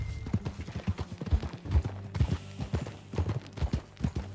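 Horse hooves clip-clop at a steady riding gait in the video game Red Dead Redemption 2, with clear rhythmic thuds close by over a faint background.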